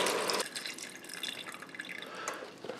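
Four cups of chicken broth pour steadily into an Instant Pot at close range, a dense splashing rush that starts loud and settles into a softer, trickling flow.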